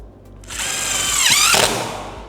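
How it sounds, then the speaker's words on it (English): A power drill whirs loudly up close while driving a screw through a template taped to a 1998-2013 Harley-Davidson Street Glide fairing. One continuous burst climbs in pitch, dips as the screw seats, then winds down. "We're just gonna drill it in, just like that."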